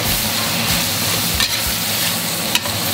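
Conch slices stir-fried in a wok with pickled mustard tuber, chili, oyster sauce and wine, giving a loud continuous sizzle with scraping spatula strokes and occasional clanks against the metal.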